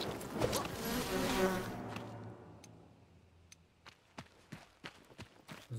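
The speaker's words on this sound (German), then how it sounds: "Die Bienen." Bees buzzing in the Enshrouded video game, a dense broadband drone loudest in the first two seconds, then fading into faint ticks and light footstep-like taps.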